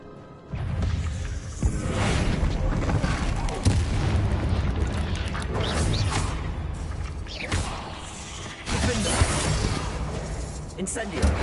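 Booming spell explosions from the Hogwarts Legacy video game, the Bombarda and Confringo blasts bursting again and again in loud, dense succession over a rumbling game soundscape, with a voice talking through it.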